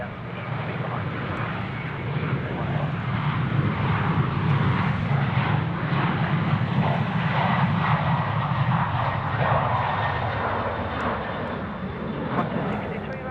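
A Boeing 737-800 takes off at Sydney Airport bound for Fiji, its engines a loud, steady broadband roar that holds throughout, with voices talking over it.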